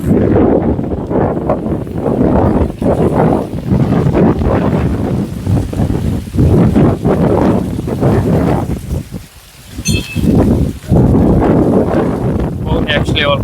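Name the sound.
strong wind blowing into the microphone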